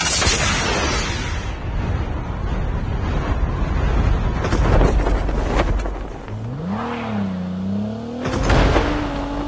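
A vehicle in Call of Duty: Mobile gameplay drives with a loud, steady engine roar mixed with game effects and bursts of noise, followed by a rising tonal in-game sound.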